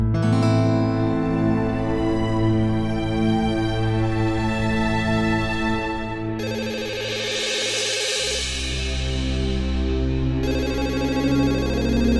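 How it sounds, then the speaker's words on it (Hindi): A telephone ringtone plays continuously and loudly as a repeating electronic melody, with the tune shifting partway through, and no voices over it. "जमुना, जमुना तू फोन मत उठाना।"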